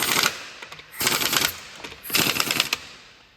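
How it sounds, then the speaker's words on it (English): Impact gun rattling on wheel nuts of a Subaru Outback, three short bursts of rapid hammering with brief pauses between, close and loud with no talk. "I'm just going real easy with the impact gun."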